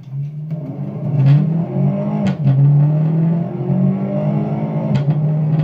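A BMW X5M accelerating hard, its engine note climbing steadily and loud, briefly dipping at gear changes before pulling again, heard from inside with no talking.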